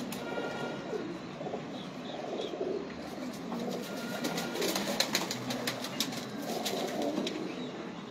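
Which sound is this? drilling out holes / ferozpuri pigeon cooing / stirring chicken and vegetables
ferozpuri pigeon cooing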